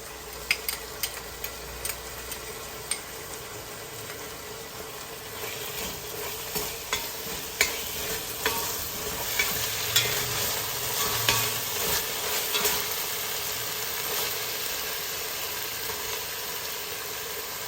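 Ginger garlic paste frying in a pan while making Hyderabad Old City kichidi: a steady sizzle runs throughout, with repeated light metallic ticks and scrapes as a spatula stirs it.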